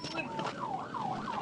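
A police trooper's car siren wails in a steady rising-and-falling sweep, loud and close, with road noise underneath.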